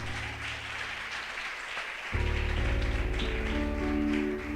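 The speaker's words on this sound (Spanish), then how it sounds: "Dale un aplauso al rey" A church congregation at an apostolic service in Manaus claps steadily, a dense patter of hands that grows fuller and louder midway as deep sustained keyboard or organ music swells in underneath.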